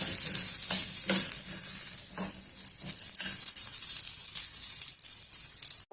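Roasted gram dal (putnala pappu) frying in a pan for pesarattu chutney: a continuous bright sizzle with scraping stir strokes throughout, close and fairly loud, ending abruptly.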